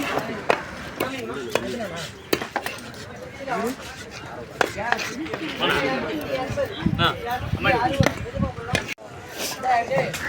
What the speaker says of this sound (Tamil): இது எல்லாமே வந்து கட் பண்ணுற இடம் தாங்க நானும் வந்து கட் பண்ண தான் கொடுத்துருக்கேன்